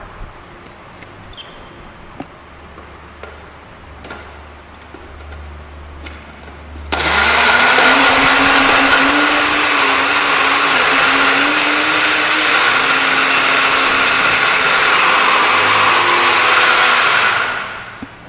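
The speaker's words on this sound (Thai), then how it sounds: "เดี๋ยวเราจะปั่นกันเลยค่ะ" A kitchen blender starts abruptly and whirs loud and steady for about ten seconds, blending ripe banana with organic garden vegetables into a green smoothie, then winds down after some quiet handling noises beforehand.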